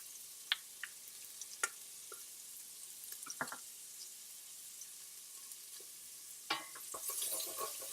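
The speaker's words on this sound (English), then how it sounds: "I'm going to add in my garlic and ginger." Garlic and ginger frying in butter in a pan for a beef and potato curry, a soft steady sizzle with scattered sharp clicks of a utensil stirring and scraping, busier toward the end.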